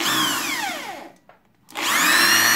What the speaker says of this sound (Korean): 구멍을 뚫을 때